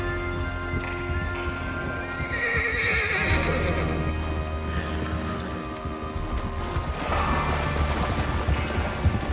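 Horses gallop in Red Dead Redemption 2 with steady clip-clop hooves and occasional neighs, set against mechanical game-style background noise; no voices.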